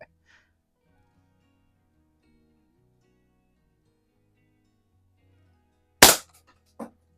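A Crosman Model 1 .22 caliber pump air rifle fires at a plastic toy soldier in a garage. After long near-silence comes one sharp, loud crack, followed shortly by a fainter, shorter snap.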